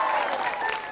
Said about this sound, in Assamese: পাঠশালাত এটা ডাঙৰ হাত চাপৰি